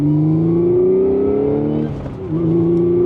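2016 Audi S5 with manual gearbox and Stage 3 clutch accelerating uphill, engine climbing loudly and steadily in pitch, then dipping briefly at a gear change before pulling hard again, close and alone.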